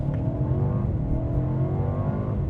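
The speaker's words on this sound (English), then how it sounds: "All right, so I kicked us into sport mode. We're gonna go ahead and hit the gas a little bit here." A 2025 Mercedes-Benz CLA 250 4MATIC coupe accelerates in sport mode, the engine note rising smoothly and steadily in pitch over a couple of seconds, heard from inside the cabin.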